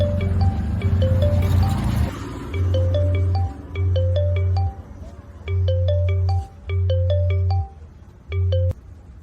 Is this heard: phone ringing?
yes